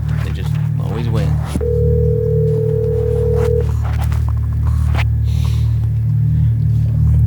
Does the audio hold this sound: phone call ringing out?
yes